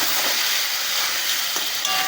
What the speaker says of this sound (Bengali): মাছের মাথাগুলোকে আমি ভেঙে দিয়ে ভালো করে ভেজে নেব